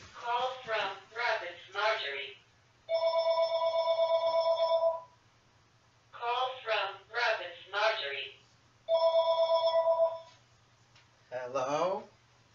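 A phone rings in two-part electronic trills, repeating several times, broken up by a voice talking between rings.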